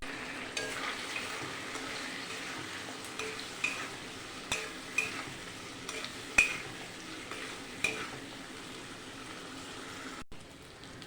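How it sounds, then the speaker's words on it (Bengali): Spices and tomato sauce for katla fish curry sizzle steadily in a pan, with a spoon scraping and clinking against the metal every second or so, close and fairly quiet. "মশলা দিয়ে ভালো করে কষিয়ে নিয়েছি"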